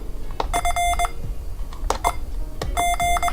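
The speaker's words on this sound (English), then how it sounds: "hear the character played back in Morse code" Morse code training app playing back a single character as electronic tones, with repeated bursts of steady beeps in short dit-and-dah groups, interspersed with sharp clicks, bright and close with no talking.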